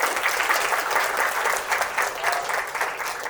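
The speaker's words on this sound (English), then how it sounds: "can you have a big round of applause for Sajith" An audience claps steadily and loudly throughout, a dense wash of applause with slight swells and no voices standing out.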